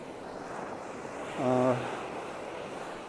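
Faint surf at Hon Chong Beach in Nha Trang, with choppier, churned-up waves washing in a low steady rumble mixed with wind; a brief tonal hum rises near the middle.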